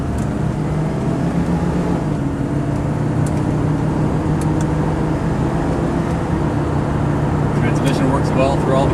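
A 1970 Ford Torino GT engine idles while warming up, a steady, even low rumble close by that holds smooth and unchanging, with faint clicks and a light hiss above it.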